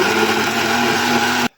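A blender whirs loudly and steadily, mixing a raspberry milkshake of ice cream, fruit and milk, then cuts off abruptly.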